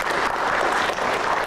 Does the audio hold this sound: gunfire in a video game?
no